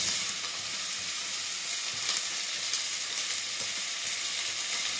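Sliced onion fries in hot oil in a pan for pork caldereta, giving a constant hissing sizzle with faint stirring scrapes, steady and close with no talking.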